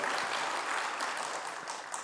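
A church congregation applauding together, a dense, steady wash of clapping filling the room for a couple of seconds.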